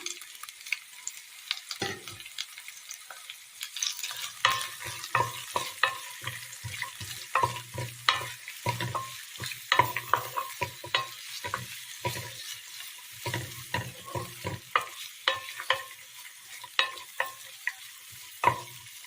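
Chopped shallots and coconut pieces sauté in a pan with a quiet, continuous sizzle, while frequent close scraping and tapping from stirring sound over it and no one speaks.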